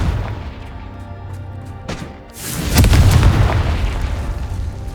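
A Confringo fire spell detonates in Hogwarts Legacy with a loud boom about halfway through, followed by a sustained rumbling blast and crackling debris over a busy game soundscape.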